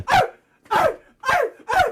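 A man imitates a dog barking with his voice, four evenly spaced, loud, close bark-like shouts with short silent gaps between them.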